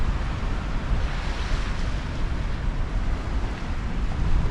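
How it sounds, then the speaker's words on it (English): Sea waves washing onto the shore on a calming day while fishing, heard as a continuous broad surf roar with gentle swells and some wind buffeting the microphone, no voices. "the sea is definitely a lot calmer than it was, say, 30 minutes ago"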